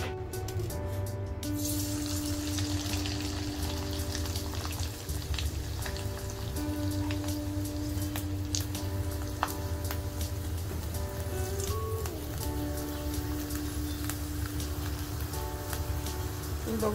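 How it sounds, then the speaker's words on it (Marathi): Sun-dried rice chakli frying in hot oil, a dense, continuous crackling fizz like rain on a surface that holds steady throughout, with occasional louder pops and no voices. "आता आपण तळून बघूया।"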